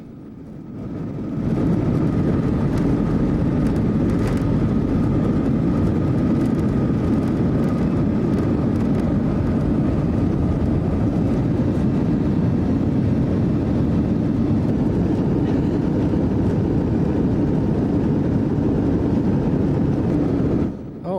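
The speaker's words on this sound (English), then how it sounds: "Okay, we're getting ready for takeoff here." A passenger airliner's engines roar in a steady, loud wash of noise as it accelerates for takeoff, heard from inside the cabin with no talking.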